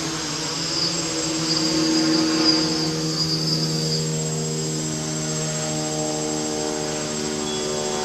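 A model helicopter lifting off and hovering in ground effect gives a steady, close-by whirring drone with strong tonal motor whine that holds level throughout, with no talk.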